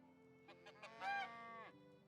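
A goose honks in the medieval farming game Medieval Dynasty: one clear, nasal, rising call that holds briefly and then drops off, heard close and alone over a faint steady background hum.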